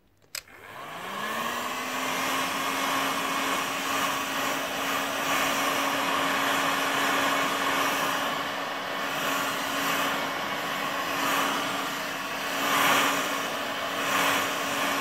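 A hair dryer blows steadily and close up while drying a freshly redone leather or plastic steering wheel covering, a continuous whir with a constant tone that starts abruptly and holds for the whole stretch, with no talking.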